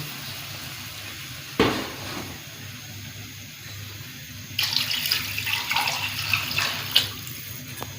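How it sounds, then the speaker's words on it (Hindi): Water pours and splashes into a cooking pot of beef for pulao stock nearby, with a sharp clank earlier and a steady gush of running water toward the end. "ये पानी डाल दिया।"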